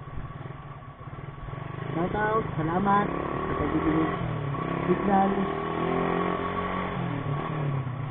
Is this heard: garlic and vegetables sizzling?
no